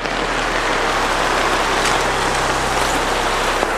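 Steady, loud outdoor rain pours as a dense, unbroken hiss that fills the whole scene, close and constant with no pauses and no voices.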